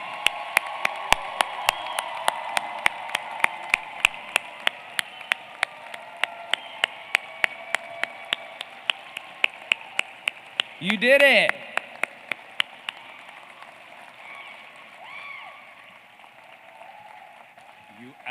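A convocation audience gives graduates a broad wash of applause, a sustained hiss of many hands that swells and then fades. A speaker talks over it, and faint regular clicks tick through the background.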